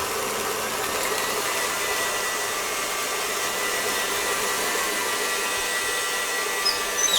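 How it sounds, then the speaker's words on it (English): Stand mixer whipping egg whites in its bowl for a Sacher cake, a steady close whirring drone that holds without a break, no voices. "Now we have the egg whites in the machine bowl. Now we need to beat that up as well."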